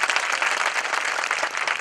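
An audience claps at the opening ceremony of an old age home in a village, a continuous dense round of applause from many hands, fairly close and steady throughout.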